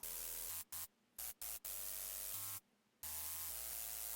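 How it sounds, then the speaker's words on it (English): Quiet, fuzzy hiss-like noise layer of a synth bass with a low buzzing tone cuts in and out in bursts, stopping briefly several times before resuming. "That's literally just like fuzzy sounds."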